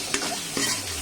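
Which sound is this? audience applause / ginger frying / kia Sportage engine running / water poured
ginger frying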